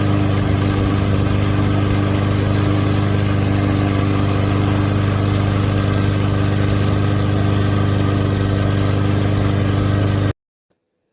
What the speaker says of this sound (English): This is the Honda. Yeah, that's the Honda 200cc engine.